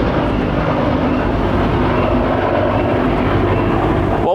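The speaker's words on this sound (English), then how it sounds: "Oh, that's the forest fire helicopter." A Huey forest fire helicopter flies overhead, a steady loud broadband rumble with a low throbbing rotor texture that holds throughout without any voices.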